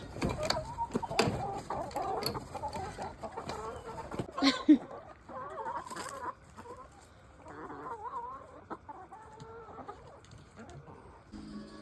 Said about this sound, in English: Time to let the chickens out.